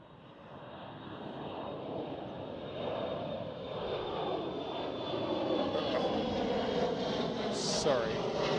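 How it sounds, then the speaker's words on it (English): KLM Cityhopper Embraer E175 taking off at Amsterdam Schiphol, a steady jet engine roar that builds and holds at a distance, with a voice talking over it. "right here, a takeoff for us is KLM City Hopper"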